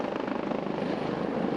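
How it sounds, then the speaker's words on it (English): A firefighting helicopter flies over a wildfire, its rotor giving a loud, close, rapid rhythmic chop over a steady engine whine that runs throughout. "Firefighters relying on helicopters and super scooper planes."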